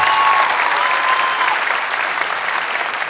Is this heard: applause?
yes